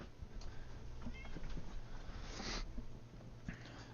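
A pet cat meows faintly in a quiet room, short thin calls scattered over low background noise.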